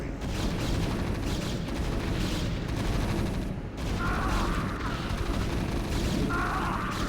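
Protoss photon cannons in StarCraft Brood War firing at once: a loud, dense, unbroken barrage of overlapping blasts and crackle with no voices.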